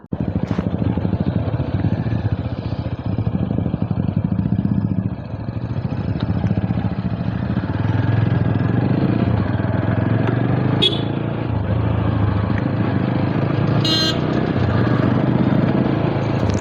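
Steady motorcycle engine drone throughout, close and continuous, as three bikes ride along toward Kundadri Hills, with a few faint clicks and bumps over the road.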